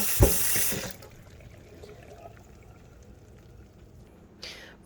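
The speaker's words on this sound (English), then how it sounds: "So I'm just rinsing them in hot water" Hot tap water runs briefly over dried beans in a kitchen sink, a loud rush at the start that cuts off, followed by quiet room tone and a short splash near the end.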